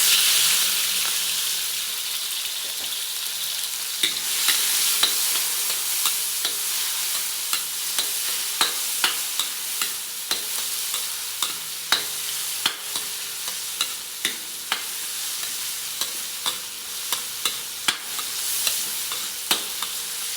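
Onion, garlic and tomato sautéing in oil in a pan for squid adobo, a steady sizzle with frequent sharp stirring clicks and scrapes from a utensil throughout, close and fairly loud, no talking.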